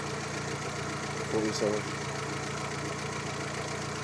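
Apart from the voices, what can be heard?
car engine running at idle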